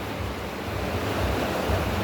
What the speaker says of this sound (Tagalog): Ayan, tumutulo na naman